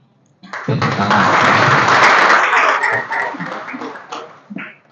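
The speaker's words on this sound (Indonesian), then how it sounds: "Oke. Tepuk tangan." Clapping from a student audience at a management student association's general assembly, starting abruptly after a brief silence, loud and dense at first, then thinning out and fading near the end.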